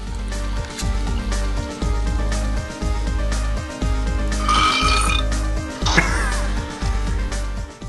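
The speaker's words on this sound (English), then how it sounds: "Nice belch." A loud, drawn-out belch with deep, rumbling pulses, close up and sustained for several seconds, with no talking.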